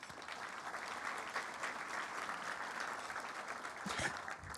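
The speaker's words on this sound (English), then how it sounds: "How about a round of applause?" An audience at a school Founders Day program gives steady, evenly sustained applause, a soft, distant wash of many hands clapping, with no speech over it.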